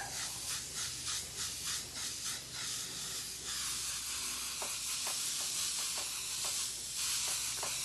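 Black spray paint hisses from an aerosol can onto a hoodie in a series of short bursts, then a steadier spray, close and loud.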